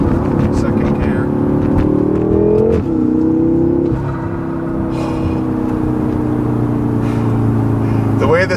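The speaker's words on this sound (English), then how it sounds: "The way this thing boogies in second gear." A 2016 BMW M5 with a Dinan tune and modifications pulls hard in second gear along the California coast, its engine note climbing steadily and loud inside the cabin, with a voice talking over the drone.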